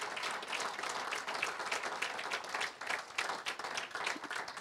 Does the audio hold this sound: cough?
no